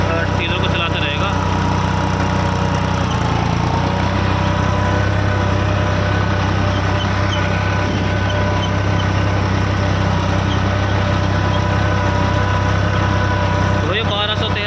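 A tractor engine runs steadily at about 1200-1300 rpm while pulling a tiller, a constant loud drone with a rattling mechanical edge throughout.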